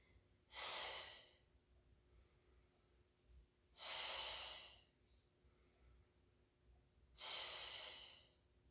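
Three slow, loud, breathy exhales spaced a few seconds apart during a Pilates mat exercise, each a long whooshing breath with quiet gaps between.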